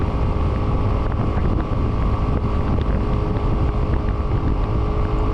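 A Vento Tornado 250 motorcycle, a 2023 model, rides at about 95–100 km/h, giving a loud, constant engine drone buried in heavy wind rush against the microphone, with no one talking.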